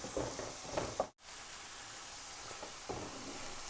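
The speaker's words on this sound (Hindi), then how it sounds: "अब इसमें हम दाल शामिल कर देंगे" Strained mash lentils drop into fried masala in a pot and set off a loud, continuous sizzle and hiss with a few stirring scrapes. A brief cut to silence interrupts it before the sizzling resumes.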